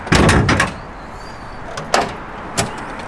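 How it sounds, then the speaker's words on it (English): A BMW E92 M3 bonnet, on a supercharged Frozen Silver car, pops open: a heavy latch clunk and thud at the start, then a couple of sharper metallic clicks later, close by. "Could you pop the bonnet?"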